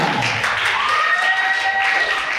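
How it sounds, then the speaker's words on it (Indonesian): Audience applause at an awarding and closing ceremony, a steady wash of clapping lasting a couple of seconds, with a faint tonal whistle or feedback line running through it. "Mari kita beri tepuk tangan kepada Kak Maya."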